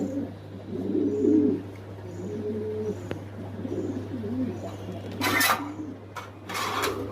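A pair of yellow Lahore pigeons coo in soft, repeated low calls at close range, with a steady hum underneath and a few sharp bursts of noise near the end.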